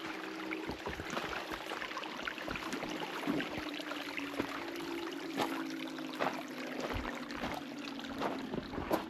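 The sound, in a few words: spring water flowing in a creek bed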